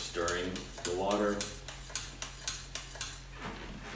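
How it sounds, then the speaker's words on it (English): A spoon stirs pasta in a pot of salted boiling water in a kitchen during a carbonara cooking class. It makes a run of light, regular clinks and taps against the pot, following a short stretch of nearby talk. "Just stirring the water."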